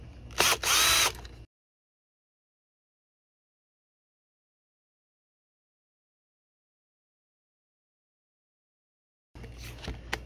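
A power tool whirs in a short burst while a steel bracket is being removed from a Kenmore washer, then a long silence follows before a second quieter burst of tool noise near the end.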